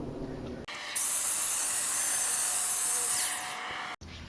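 A WORKPRO 600-watt HVLP sprayer with a large nozzle blasts old stain onto a wooden board in one loud, continuous hiss lasting about three seconds, with the motor hum heard before and after the burst.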